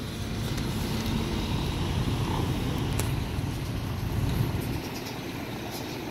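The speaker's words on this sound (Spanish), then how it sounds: "a buena hora todos los camiones se les ocurre cruzar ahí enfrente de mí" Heavy trucks, likely eighteen-wheelers, crossing in front of a parked rig, a steady low rumble of road traffic that swells slightly toward the end before easing off.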